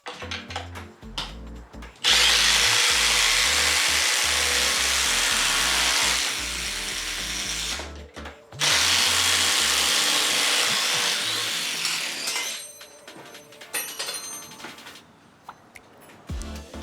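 Impact driver boring a 1 1/4 inch Spider Stinger brad-tip auger bit into a non-pressure-treated 4x4, two long loud grinding bursts of the tool chewing through the wood, separated by a short pause, then winding down.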